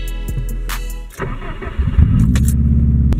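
A car engine with a do-it-yourself modification cranks over briefly, then catches and settles into a loud, throbbing idle close by.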